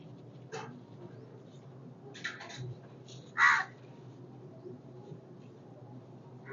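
Crows caw outside a home balcony, several short, scattered calls at moderate distance, one louder and nearer than the rest, over a quiet background hum.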